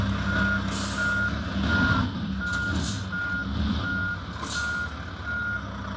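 Reversing beeps from a modified Volvo truck in Truckers of Europe 3, a steady repeating series of about ten evenly spaced tones over a loud, continuous diesel engine rumble.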